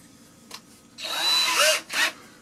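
A power drill pre-drills screw holes during a bathroom build, a short tap of the trigger followed by two close, high whining bursts that rise in pitch as the bit spins up, with no voices.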